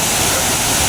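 Inambakan Falls in Ginatilan, Cebu roars as a steady, loud, dense rush of falling water, close and unbroken, with no voices.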